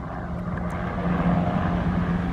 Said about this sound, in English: you will get the helicopters coming over, because it is on the flight path for those helicopters in the area